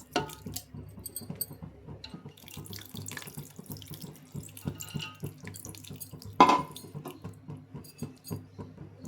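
Liquid pours steadily into a cooking pot as tamarind juice is added for pappu charu, a continuous close splashing stream with a brief louder splash partway through.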